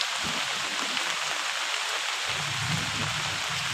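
Heavy rain pours steadily on a road, a dense, loud hiss of falling water that continues unbroken, heard from under an umbrella while walking, with no talk.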